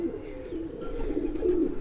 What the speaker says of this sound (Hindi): ये मेरे मैन कबूतर हैं उड़ने वाले।